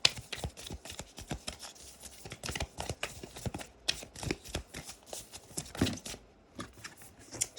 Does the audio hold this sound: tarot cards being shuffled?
yes